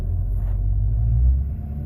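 A car engine runs in a low, steady rumble, close and loud, while the owner drives one of his dad's fourteen vehicles with no one talking.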